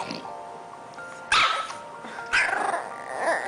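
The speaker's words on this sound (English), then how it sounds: "we're gonna see a really super cute, funny video, and it's a cute doggy saying," A dog in a played-back video barks and growls, with two sharp, loud barks spaced about a second apart between lower grumbling growls and whimpery vocal sounds, fairly close.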